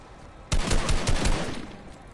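Gunfire in Fortnite Battle Royale, a sudden rapid burst of loud close shots that rattle on for about a second before tailing off, with no talk over them.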